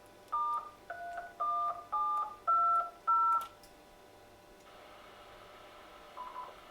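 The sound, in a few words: DTMF tones entering amateur radio repeater node number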